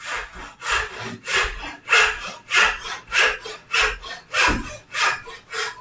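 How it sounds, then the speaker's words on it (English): A hand saw cutting vertically through wood clamped in a vise, with nine or ten steady, evenly spaced rasping strokes back and forth, close and loud, with no talk. "Again, another vertical saw cut."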